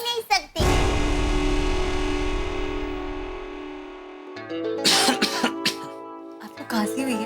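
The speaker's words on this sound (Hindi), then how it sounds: "आपको खांसी हुई है?" A sharp burst of coughing at the start, then sustained music-like tones and a few more short vocal sounds, with speech mixed in.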